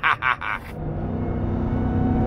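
A 2022 RAM TRX pickup's supercharged engine runs with a steady, close rumble and a sustained tonal whine after a brief voice at the start, holding at an even level.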